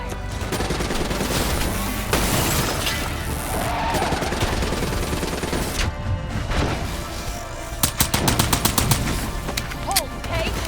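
Dense, rapid gunfire and explosive crashes fill a Call of Duty Black Ops III battle, loud and continuous, with sharp burst volleys near the end and occasional in-game voices beneath.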